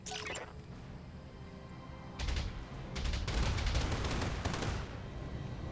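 Weapons fire from a giant mech in the MechWarrior Battletech video game: a short burst, then sustained heavy rattling volleys with deep booming impacts, loud and continuous for several seconds.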